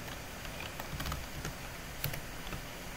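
Keys on a computer keyboard are tapped while someone types code in Roblox Studio, giving a quiet, uneven run of soft clicks with a few sharper keystrokes standing out from the low room hiss.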